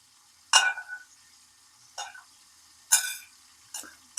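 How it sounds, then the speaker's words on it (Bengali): Whole spices are dry-roasted in a frying pan: four short, sharp rattling scrapes come at uneven intervals against near silence, close and moderately loud. "তো এইগুলো আমি একটা ফ্রাই প্যানের মধ্যে হালকা ভেজে নেব"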